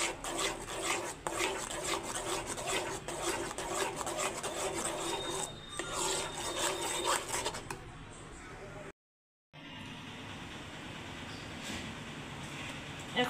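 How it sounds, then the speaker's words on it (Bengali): Thick milk dough is scraped from a pan into a container, giving a continuous rasping, rubbing scrape of a utensil against metal that breaks off for a short moment of silence, then resumes more softly. "এখন এই কন্টেনারে আমি ঢেলে নিচ্ছি।"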